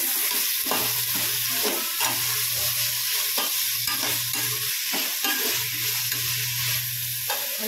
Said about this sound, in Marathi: त्याला व्यवस्थित फ्राय करून घ्यायचं।